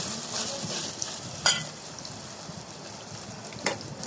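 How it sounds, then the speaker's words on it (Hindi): Ginger garlic paste fries on high flame in a pan while making hotel-style chicken keema. A soft, steady sizzle runs throughout, with a couple of brief sharper spits and crackles. "1 मिनट हमें तेज आंच पे भूनना है।"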